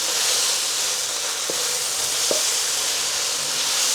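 Stir fry sizzling in a hot pan alongside a steak: a steady, bright frying hiss throughout, with a couple of faint clinks from utensils partway through.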